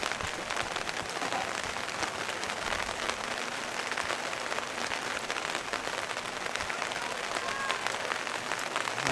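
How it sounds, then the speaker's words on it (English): Heavy rain pours down steadily on an outdoor rugby match, a dense and even hiss of drops that never lets up, fairly soft and with no clear gaps. "Here comes the rain again."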